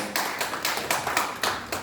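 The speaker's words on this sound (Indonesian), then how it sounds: "Tepuk tangan buat Tuhan Yesus" A church congregation claps in a steady, even rhythm, several sharp beats per second from many hands together, fairly close and without talk.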